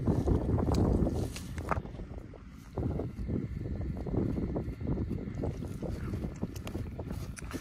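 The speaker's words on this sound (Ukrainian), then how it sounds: "Гарно працює сівалка." A Seedmaster UltraPro II 550 seed drill works a field during spring sowing, a low, steady mechanical rumble with rattling and wind noise on the microphone throughout.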